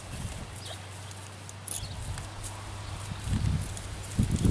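A black-bay tobiano horse walks with a few soft hoof clops, thickening toward the end, over a steady low hum and light outdoor rustle.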